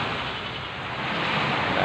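Broad, steady wash of surf breaking at a sea beach in Barangay Payak, with wind buffeting the microphone; the noise swells slightly louder toward the end, continuous and close, with no voices.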